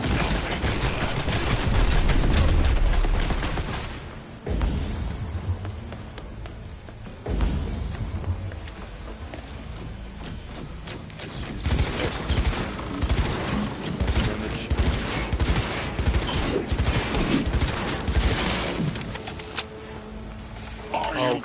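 Cyberpunk 2077 combat gunfire: bursts of shots and rapid volleys rattle on and off across a long stretch, with a person talking over parts of it.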